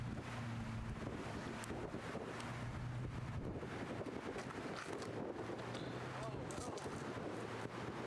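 Strong wind buffets the microphone on an outdoor disc golf course during a tournament round, a steady roaring rumble that runs loud and unbroken throughout, with a low hum and faint distant voices underneath.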